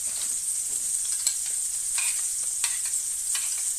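Food sizzles and crackles steadily in a hot pan while hake is cooked with ground coriander, with a constant bright hiss, scattered pops and light stirring scrapes.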